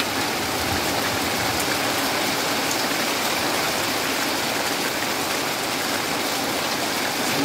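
Heavy typhoon rain pours down in a dense, unbroken roar, loud and steady throughout with no pauses.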